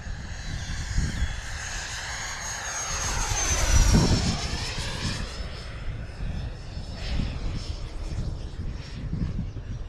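A Freewing Eurofighter 90mm electric ducted-fan RC jet roars past overhead, its whine rising to a peak and sweeping down in pitch as it passes, then continuing steadily at a distance.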